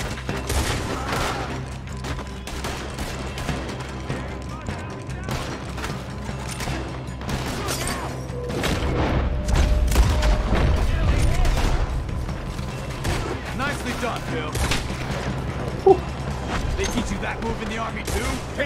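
Rapid gunfire and loud shots crackle almost nonstop during a robbery shootout in the video game Red Dead Redemption 2, with voices calling out between the bursts.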